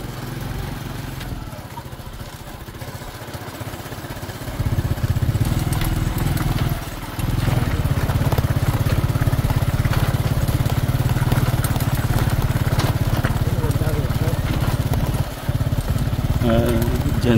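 A motorcycle being ridden, its engine droning steadily and rising to a louder, sustained rumble partway through, with wind noise and talking throughout.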